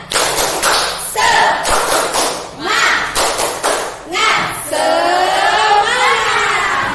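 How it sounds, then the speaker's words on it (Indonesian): A school class claps out the tepuk semangat chant, sharp rhythmic bursts of claps and thumps in short groups, mixed with children's voices chanting and ending in a long shout. "Tepuk semangat."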